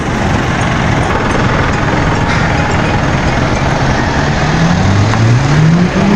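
Cars and trucks rolling off the ferry Reina Quelita of Montenegro Shipping Lines, a loud continuous engine rumble with a vehicle revving and climbing in pitch near the end.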